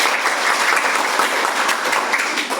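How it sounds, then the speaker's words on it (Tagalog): Audience applause in a Filipino class reading of Noli Me Tangere, steady dense clapping that runs loud and unbroken throughout, with no voices over it. "Ulit, palakpakan!"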